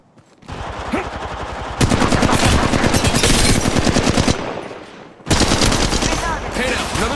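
Rapid, loud automatic gunfire in the mobile battle-royale game Apex Legends Mobile, sustained bursts with a brief pause before firing resumes, dense and close.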